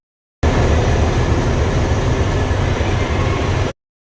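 Steady, loud rumbling din on a train platform at Sealdah railway station, a dense wash of noise that starts abruptly and holds evenly for a few seconds before cutting off.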